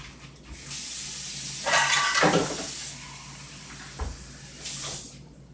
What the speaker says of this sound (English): I need a little bit more water. So I'm going to add a little bit more water